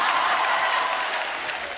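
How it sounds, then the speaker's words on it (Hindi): Applause from a TV studio audience on a comedy show: a loud, dense burst of many hands clapping together, steady at first and easing off slightly toward the end. "तालियां बजाना।"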